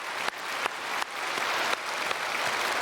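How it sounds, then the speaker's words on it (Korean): A church congregation at Sunday worship breaks into steady, dense applause that fills the hall, continuing evenly for a few seconds with no speech over it. "우리 다 같이 격려의 박수 한번 보내드리면 감사하겠습니다"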